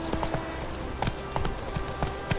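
Geralt's horse Roach gallops in The Witcher 3: Wild Hunt, hooves striking in a quick, rhythmic clip-clop close by, with a few heavier thuds among the steady beat and no talk.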